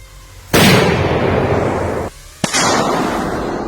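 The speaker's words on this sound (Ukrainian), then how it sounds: "Є команда постріл. Я закидаю міну. Постріл!" Two loud, sharp blasts of mortar fire boom a couple of seconds apart, each followed by a long rumbling decay that rolls on.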